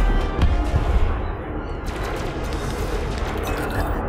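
Ship weapons fire in the space game Elite: Dangerous, a loud rapid burst of cannon-like shots at the start, then a sustained rumbling mechanical roar with crackling impacts.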